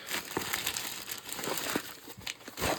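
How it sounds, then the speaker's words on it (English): Scissors snip and rustle through plastic packaging around a set of silverware bought at an online auction, producing steady crinkling and crunching with a few sharper snips, close up and with no talk. "let's just deploy the scissors"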